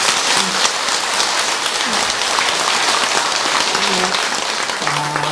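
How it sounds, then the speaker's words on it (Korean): A temple audience at a Buddhist dharma talk gives the abbot a big round of applause, dense and even clapping that fills the whole moment at close range, with a few faint vocal murmurs mixed in. "주지 스님한테 큰 박수 한번 보내주세요"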